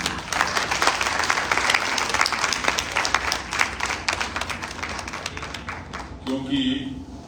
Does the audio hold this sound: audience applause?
yes